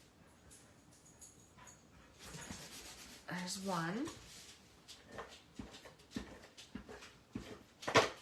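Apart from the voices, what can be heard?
puppies wandering around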